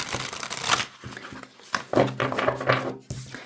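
Tarot cards riffled and shuffled by hand, several quick papery bursts close up, with soft handling noises between them.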